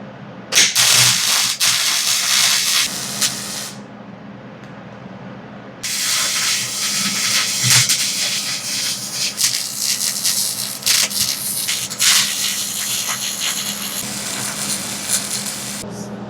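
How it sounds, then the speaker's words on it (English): Arc welding on the broken weld of a Husqvarna riding mower deck makes a loud, harsh, crackling hiss in long bursts, with a short pause between welds. "Can we get some welding done now?"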